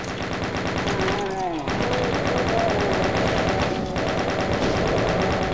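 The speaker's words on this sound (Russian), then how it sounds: "Почему бы не взять пулемет?" A chaingun fires in the video game Doom, a continuous rapid stream of game machine-gun shots, loud and close, with short game sound effects layered over the barrage.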